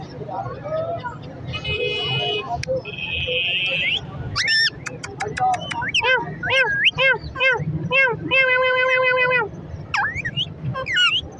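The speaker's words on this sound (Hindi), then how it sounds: "टोकिंग करता हुआ, हाथ पे आ रहा है, मिट्टू बेटे, सीटियाँ, बिल्ली की आवाज़" A parrot at the Lalukhet bird market in Karachi whistles repeatedly in bright, rising and falling notes, mixed with chirps and a catlike meow, close by, over a low background murmur.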